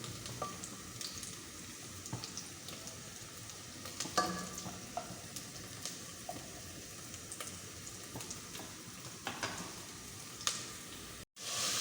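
Onions browning in a pot for Afghani Kabuli pulao, a steady close sizzle and crackle with occasional stirring scrapes and clinks throughout, no voices.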